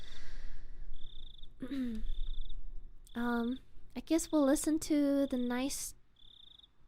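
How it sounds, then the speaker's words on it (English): Crickets chirp in steady, repeated bursts in the background while a person talks over them at close range. "the crickets chirping."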